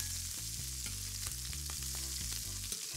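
A steady sizzle of sausages frying in a hot pan, continuous and close, with a bass-heavy music track playing loudly underneath.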